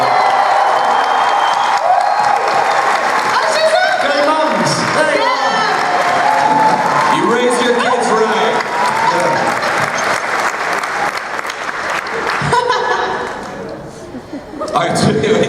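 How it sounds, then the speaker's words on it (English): Convention crowd at a Doctor Who Q&A panel applauding the panelists' mothers, a loud sustained round of clapping and cheering with whoops, voices calling out over it, fading near the end. "big round of applause for the parents of these excellent people"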